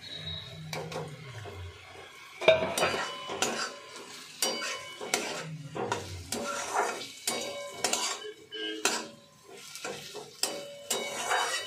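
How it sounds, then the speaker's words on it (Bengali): Boiled and fried potatoes go into a pan with chicken and are stirred, with repeated spoon scrapes and clatter against the pan and a faint sizzle, close and moderately quiet. "এর মধ্যে এবার আমি যে আলু কটা ছিল সেদ্ধ করে ভেজে রাখা সে কটা দিয়ে দেবো"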